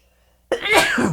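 A single sudden, loud sneeze bursts out after a stretch of near silence, then tails off with a breathy release.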